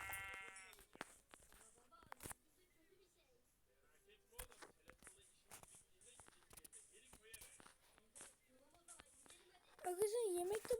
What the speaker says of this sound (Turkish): Aa koyun bulduk iki tane.